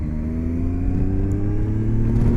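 A Zontes 703 F motorcycle engine drones steadily, rising gradually in pitch as it accelerates, continuous and close, with no voices.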